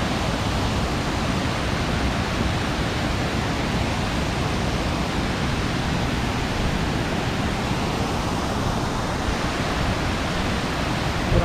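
Roar of Thooval waterfall in Idukki, heard from beside the falls: a dense, steady rush of falling water that holds at the same level from start to finish, with no voices.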